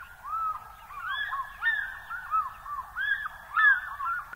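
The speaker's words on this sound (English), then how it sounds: "Number 88, African fish eagle." An African fish eagle gives a series of repeated, ringing yelping notes. The calls come in quick clusters over about four seconds, clear against a quiet background, with no voices.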